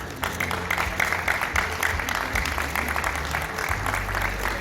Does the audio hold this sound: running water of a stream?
no